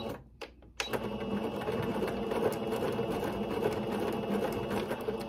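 A sewing machine stitches ruffle tutu socks, starting after a brief quiet moment and then running in a steady, close mechanical whir for several seconds without talk.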